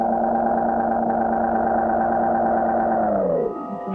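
A cartoon rocket from the 1959 Clutch Cargo series turns around and lands: a steady, buzzing engine drone holds at a constant pitch, then sinks lower and fades in the final half-second as it sets down.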